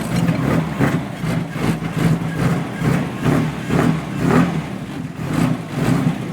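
A car engine with an IDA carburetor setup idles roughly in a loud, lumpy, pulsing rhythm of regular throbs close by, with no talk.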